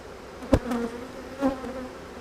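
Honey bees from a split hive that is short of bees drone in a steady, close buzz, with a couple of brief soft knocks and louder swells as individual bees pass nearby.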